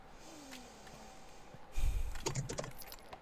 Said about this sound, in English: we ignore Moth's loud ass keyboard